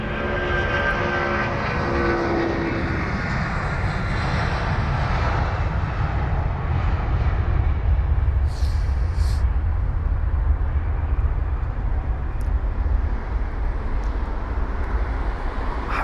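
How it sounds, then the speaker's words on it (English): A Boeing 757-200 bound for Reykjavik roars on takeoff at London Heathrow, its jet engines producing a loud, sustained, broadband rumble that holds steady throughout with no talking. "757 engines rocketing off are amazing. I mean, they sound so different to that of obviously the 777s or the A330s"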